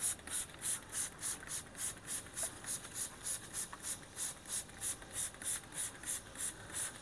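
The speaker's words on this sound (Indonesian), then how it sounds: "Oke, semuanya kita semprot merata." Rhythmic bursts of hissing spray as fertilizer is pumped evenly over a jamblang (Java plum) tree, about a dozen pulsing sprays at a steady pace, fairly faint and with no talk.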